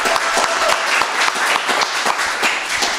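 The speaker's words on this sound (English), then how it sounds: "Round of applause for our panel" Audience applause for a jazz discussion panel, a lively, close burst of crowd clapping with distinct sharp individual claps within the dense wash, sustained throughout.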